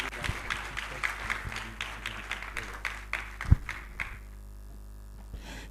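An audience applauding a minister at a 40th anniversary celebration and biennial general meeting, a few seconds of scattered hand claps from a modest crowd that thin out and fade away.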